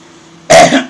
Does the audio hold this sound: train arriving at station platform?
no